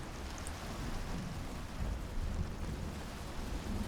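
Thunderstorm with heavy rain in the survival video game Icarus, a steady hiss of rainfall under a low rumbling of thunder, continuous and moderately quiet throughout.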